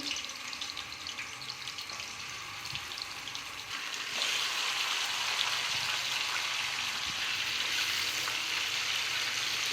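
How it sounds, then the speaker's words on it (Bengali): Small chicken pieces fry in hot oil with a soft, steady sizzle that grows noticeably louder partway through as more pieces go in. "তেল দিয়ে দিচ্ছি চিকেনটা ভাজবো গরম হয়ে গেছে আমি এক একে চিকেনটি দিয়ে দিচ্ছি"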